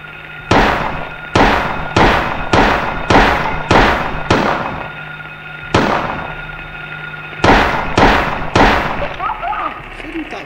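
Gunfire in the Silent Hill video game: a rapid series of about ten loud, sharp shots with short echoing decays, spaced at fairly even intervals and then pausing briefly before the last two.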